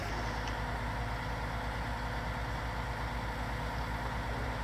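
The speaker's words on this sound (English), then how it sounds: "This is the bigger tractor, and it struggles even with this big giant planter." A big tractor in Farming Simulator 19 pulls a giant planter, its engine giving a steady, loud, low drone that stays unchanged throughout without talk.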